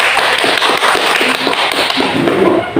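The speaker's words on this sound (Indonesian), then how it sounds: "Kasih tepuk tangan" Audience applause breaks out in a classroom presentation, a dense patter of hand claps lasting a few seconds with no voices.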